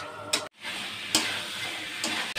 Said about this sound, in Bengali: এখন আমি অল্প জল দিয়ে মশলা কষিয়ে নেব আলুর সঙ্গে